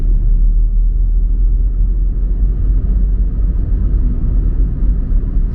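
Steady, loud low rumble of a manual car's engine as the driver lifts off the gas, dips the clutch and moves through neutral into third gear during a driving lesson; a continuous drone with no clear rev changes.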